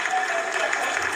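Brief, dense applause fills a mission control room during a Chandrayaan-3 lunar soft-landing, steady and continuous with a faint crowd murmur.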